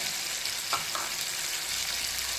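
Chopped onion and red tomatoes fry with softened cauliflower in a pan, giving a steady close sizzle with a brief stir partway through.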